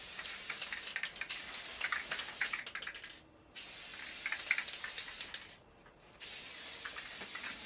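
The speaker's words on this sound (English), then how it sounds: "I did seal it in with a nice clear spray paint top coat, which I had to spray on" Clear spray paint top coat hissing from an aerosol can in bursts, with short pauses between passes, close and fairly loud.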